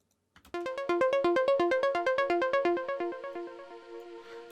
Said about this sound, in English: And then I'm going to pull in an echo.